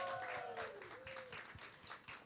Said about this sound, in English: More claps, please, guys.